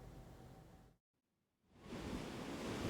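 Huge typhoon waves from Typhoon Maysak crash onto the East Sea coast at Guryongpo, Pohang, as a loud, broad roar of surf that breaks off into near silence for about a second and then surges back stronger.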